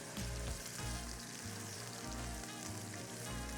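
Salmon fillet sizzling and frying steadily in a hot pan, a dense continuous crackle with no voices over it.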